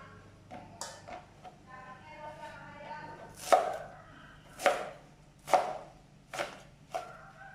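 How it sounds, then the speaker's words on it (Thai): Steady knife chopping of vegetables on a cutting board for Thai khanom jeen nam ya, light rhythmic taps with several louder, heavier chops mixed in, close by. "หั่นผักใส่น้ำยาจ้า"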